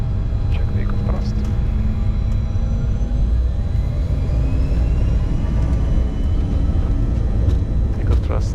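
Challenger 605 business jet engines spooling up to takeoff thrust at Milan Linate, a loud, steady low roar with thin whining tones layered on top and brief voices over it.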